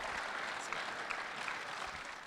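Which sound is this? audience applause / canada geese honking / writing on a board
audience applause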